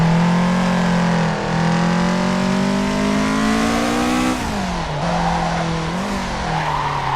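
An older car drifting in the Assetto Corsa racing game, kicked out in second gear on full throttle: a loud, sustained engine drone rises and falls with revs while tyres squeal, with no voices.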